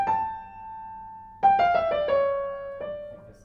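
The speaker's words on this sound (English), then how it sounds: "decide to play the note that follows the sustained note quite loud" A Steinway piano holds a sustained note that fades, then a louder note strikes, followed by a few more quick notes ringing close and clear in a quiet room.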